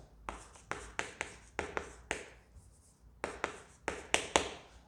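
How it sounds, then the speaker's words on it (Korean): Quick bursts of chalk or marker strokes on a classroom board during a high-school maths lecture, sharp taps and scratches arriving in irregular clusters with short pauses between, close and fairly quiet, with no talk. "이제 써볼게요."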